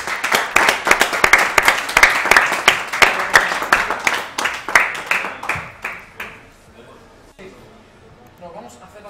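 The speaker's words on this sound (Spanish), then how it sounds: "Un aplauso." An audience at an esports grand final for FIFA 13 claps in a dense burst of applause that swells, holds for several seconds, then fades out.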